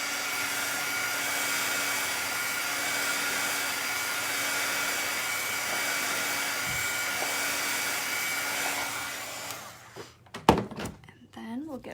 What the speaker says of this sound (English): I'm gonna throw the dryer on in just a tiny bit